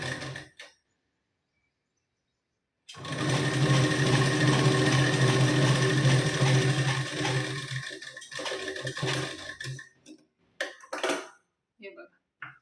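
A home sewing machine stitches blouse fabric in a steady, fast whirring run of about five seconds that slows and stops, followed by short clicks and bursts of handling.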